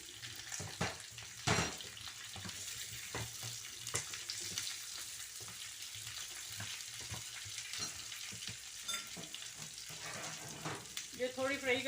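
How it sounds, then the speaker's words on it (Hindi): Okra (bhindi) hits hot oil in a pan for karari bhindi, giving a steady broadband sizzle with scattered clinks and stirring scrapes, along with a brief splashy, tap-like rush near the start. "अब मैं इसमें भिंडी फ्राई करूँगी डाल के।"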